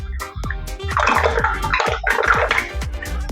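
Clams tumble into hot water heating in a wok, giving a run of sharp clinks and splashy bubbling bursts that repeat in quick succession at close range, with no talking.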